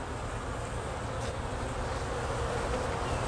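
Honeybees buzz at an opened hive while structure comb is pulled away by hand, a dense, steady swarm drone close by and holding at an even level throughout with no talking.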